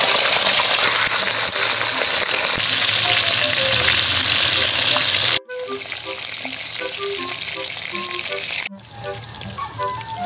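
Loud, steady sizzling of pork belly frying in a hot pan, with popping and crackling grease, close by and continuous.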